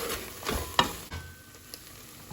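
A spoon stirs brown rice with soy sauce in a hot pan, giving a few scraping strokes over a low, constant sizzle of frying, close by and with no talk.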